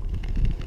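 Steady wind rumbles and buffets the microphone, a low continuous roar with no other clear sounds.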